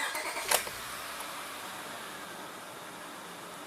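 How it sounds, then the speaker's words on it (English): The 2003 Honda Accord V6 engine cranks with a short burst and then catches, settling into a faint, steady idle hum that runs to the end. "We'll start the engine and make sure that goes off."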